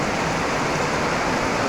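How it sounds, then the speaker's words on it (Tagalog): Heavy rain pours down on a farm field in a dense, roaring downpour, a loud and steady wash of noise with no voices. "Biglang buhos yung ulan, napakalakas."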